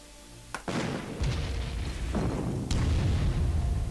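Heavy bombing explosions in the Allied Corps war game during the siege of Bardia, with a sharp blast followed by rolling booms and a sustained low rumble, loud and continuous with no talking.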